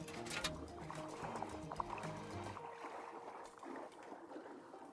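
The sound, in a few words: hot water being poured, from the video game Wanderstop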